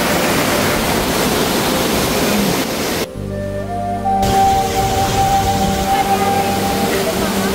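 A fast-flowing clear stream at Mother Falls, surrounded by plants, roars loudly and continuously up close; the broadband rush briefly drops out mid-clip, while a tonal hum enters and lingers alongside it.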